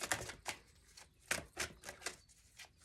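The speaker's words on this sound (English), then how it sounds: "I'm gonna pull a few more cards for you" Tarot cards are pulled from a deck and laid down in a quiet room, making a series of soft, close taps and slaps that come in an uneven rhythm, about a dozen distinct hits with brief shuffling between them.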